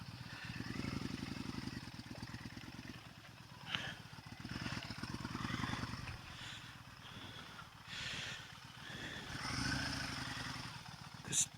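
A Kawasaki Vulcan 1600 motorcycle pulling in at home, its low engine throb pulsing steadily at close range, rising and falling with bursts of throttle, with occasional clunks and a sharp knock at the end.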